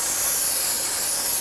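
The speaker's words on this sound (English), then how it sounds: "Go ahead and use some brake parts cleaner." Brake parts cleaner blasts from an aerosol can onto the front brake caliper area of a 2011-2016 Kia Optima, a single loud, close, continuous hiss that cuts off sharply at the end.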